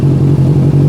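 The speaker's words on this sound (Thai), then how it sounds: "นี่คือเสียงเสียงรอบเดินเบา" A 2018 Honda CB650F inline-four motorcycle engine idles close by, a steady low throbbing rumble with a faint irregular pulse.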